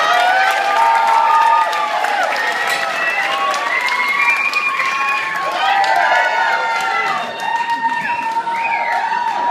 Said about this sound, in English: let's have a huge round of applause to your matron